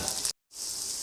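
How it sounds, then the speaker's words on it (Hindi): Ginger and garlic hit a hot karahi with chicken, a steady hiss of frying that cuts out briefly and then returns just as strongly, close and moderately loud. "मैं अदरक लहसुन डालूँगी।"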